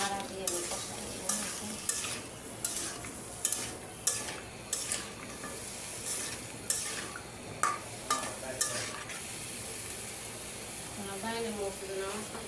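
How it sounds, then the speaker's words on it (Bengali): Taro stems being stirred and fried in spiced oil for a thin puti fish curry, a continuous sizzle broken by regular spatula scrapes and clinks against the pan, with talk now and then over it. "ভালো করে নাড়া দিয়ে আমি কষাই নেব।"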